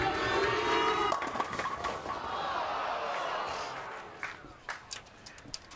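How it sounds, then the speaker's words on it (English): A bowling alley crowd chants Norm Duke's name loudly in a sustained roar, which fades as scattered claps and thuds take over toward the end. "Crowd chanting Duuuuke"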